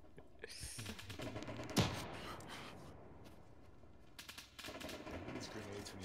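Bursts of gunfire from an enemy BMP crack in the ArmA 3 video game, one sharp loud shot standing out among scattered rattling shots, with players talking in between.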